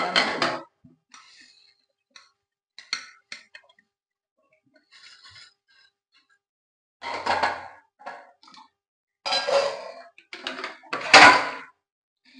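Intermittent clinks and clatters of dishes and pots being handled, with short bursts separated by quiet gaps; a faint voice murmurs briefly.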